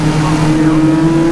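Caterham Roadsport race cars lapping Croft Circuit, a steady loud engine drone with tyre and wind noise under continuous race commentary.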